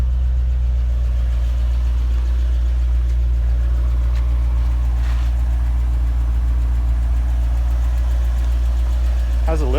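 A Chevrolet C4 Corvette idles with a steady low rumble and a faint rapid ticking from a worn lifter, close and constant, while someone talks at times over it.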